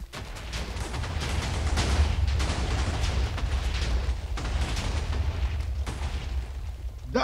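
TNT blasts in the Minecraft video game roar continuously as a dense, rumbling stream of overlapping booms, loud and sustained with a few sharper cracks.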